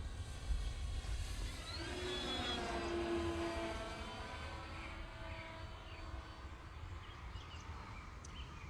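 Radio-controlled FMS P-40B 1.4 m model warbird flying with full flaps, its electric motor whine rising and sweeping in pitch as it passes at a moderate distance, alone over outdoor background.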